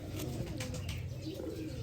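Sialkoti pigeon cooing softly, low throaty coos repeating in a short burst, close but quiet.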